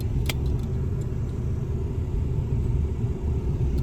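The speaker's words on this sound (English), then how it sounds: "There's an ice cream truck." A snow cone truck passing on a road, a steady low engine rumble close by with a light metallic jingle early on, no voices.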